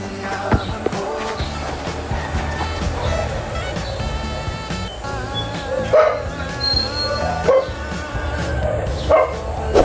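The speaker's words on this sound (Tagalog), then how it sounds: "May aso." A dog barks a few times amid a busy, cluttered background of music and voices.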